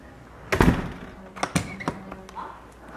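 A house door being unlocked and opened: a sharp thunk and rattle of the latch and handle, followed by a few lighter taps and knocks as the door swings, close and brief with no talking.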